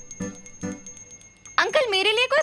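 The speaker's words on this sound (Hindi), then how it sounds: "अंकल जिस स्टाइल से घंटी बजा रहे हैं" Two clear metallic rings of a hand bell during prayer sound close by, each fading quickly, followed by a person speaking.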